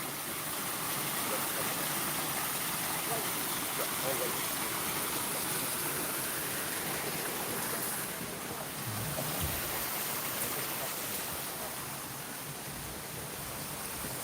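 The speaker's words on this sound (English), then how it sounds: "With the presence of this little waterfall." A small waterfall pours in a steady, even rush of water that stays unchanged throughout, fairly loud and close, with no clear voices over it.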